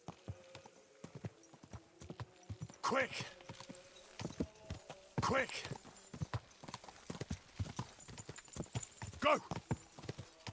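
Horse hooves clip-clop steadily in a Kingdom Come: Deliverance II game scene, close and rhythmic throughout, with a brief whinny and a man calling out urgently over the hoofbeats.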